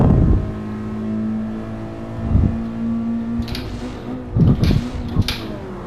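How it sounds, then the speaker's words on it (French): A race car engine in Gran Turismo 7 screams under load, a sustained high droning whine broken by several short sharp clicks and bursts as it revs. "La pauvre voiture elle hurle."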